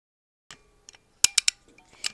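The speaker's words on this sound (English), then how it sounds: "Now you're going to squeeze the handle of the gun until you hear a clicking sound." Squeezing the handle of a Stop & Go 1075 tire plug gun while seating a mushroom plug through a tire produces a few sharp mechanical clicks, a quick cluster of three crisp snaps followed by a lighter click, close and with no talking.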